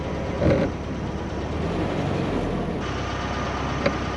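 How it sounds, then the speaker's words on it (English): An old Volkswagen Beetle cruises on a highway, its cabin filled with a loud, steady roar of engine and road noise that barely changes, with a couple of short thumps along the way. "This car is pretty loud on the highway though"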